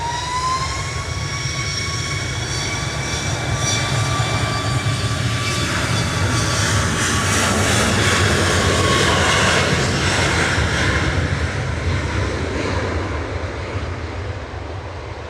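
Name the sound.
propeller aircraft taking off at Manchester Airport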